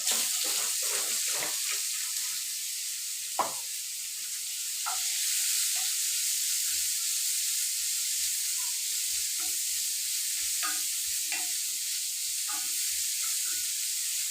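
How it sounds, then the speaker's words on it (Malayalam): Chopped onions sizzle in hot oil in a pan, a steady close hiss with scattered soft pops and stirring knocks, no talking. "കുറച്ചെണ്ണയും കൂടെ ആഡ് ചെയ്യണം സവാള ഇടാമേ"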